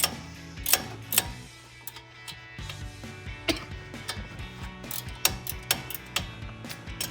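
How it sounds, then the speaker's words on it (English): An 18mm wrench ratchets while tightening the upper ball joint nut on a 2007-2018 Chevrolet Silverado front suspension during a lift install, giving close, repeated metallic clicks in uneven bursts. "Take our 18mm wrench."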